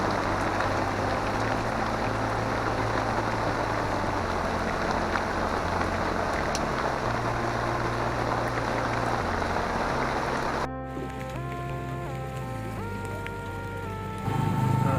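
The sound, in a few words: rain falling at a lake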